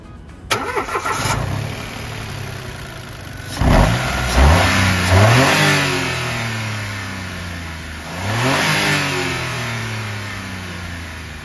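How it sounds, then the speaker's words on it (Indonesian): Mitsubishi Mirage 1200cc three-cylinder engine cranks and fires up, then settles into a steady idle broken by two sharp revs, heard close and clear with no talking. "Sekarang kita pengen coba startup dulu untuk mendengar mesinnya"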